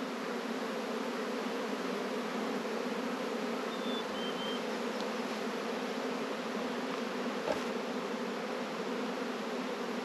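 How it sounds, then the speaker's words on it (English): A honey bee swarm lifting off from a backyard hive gives a dense, steady buzzing hum, loud and continuous with no voices over it. "this swarm is getting up and going somewhere"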